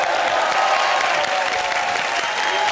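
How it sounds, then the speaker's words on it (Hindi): A studio audience at a comedy television show breaks into loud, sustained applause, a dense and even wash of many hands clapping at once, with no pauses. "जोरदार तालियों के साथ स्वागत कीजिए मुबीन और अनीता का"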